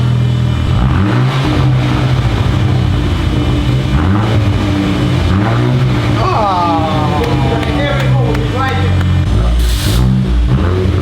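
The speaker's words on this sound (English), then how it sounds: "Rev that, man." A car engine converted for racing revs repeatedly, rising and falling in loud, throaty pulls close by, while people talk and exclaim excitedly over it.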